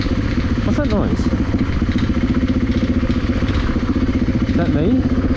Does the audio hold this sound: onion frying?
no